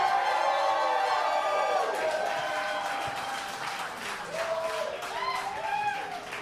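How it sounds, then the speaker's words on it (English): A comedy show audience claps and cheers loudly and continuously, with whoops and shouted voices rising over the sustained applause. "clap your hands if you're hearing more jokes from Toothbrush Jesus."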